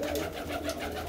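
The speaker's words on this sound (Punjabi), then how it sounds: "ਬਾਈ ਇਹ ਉਹ ਕਬੂਤਰ ਨੇ ਫੌਜੀ ਧਮੋਟ ਵਾਲੇ" Shah Akhi breed pigeons cooing softly in a low, continuous burble, faint and close, with no talk over it.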